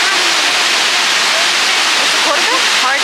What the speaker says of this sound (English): Hoi Kwa waterfall